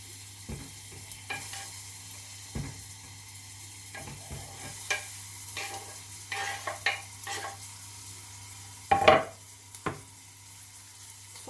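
Onions and garlic sautéing in olive oil for a baby's celery dish, a steady low sizzle with repeated stirring scrapes and clatters, one louder knock near the end, close and alone with no talk.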